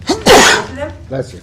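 A single loud sneeze bursts out during a town license review board meeting, with people talking just before and after it.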